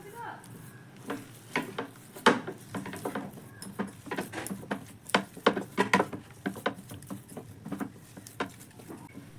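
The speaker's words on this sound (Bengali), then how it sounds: "এবার খুব ভালোভাবে আমি আবারও একটু স্প্যাচুলা দিয়ে মিশিয়ে নেব।" A spatula mixes softened, soaked semolina in a pan, irregular soft scraping and tapping strokes coming in clusters, close up, with quiet gaps between bursts.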